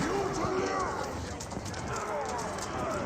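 Rapid hoofbeats of galloping horse archers in Age of Empires 4 patter under a busy, dense game soundscape, with faint voices and a whinny mixed in.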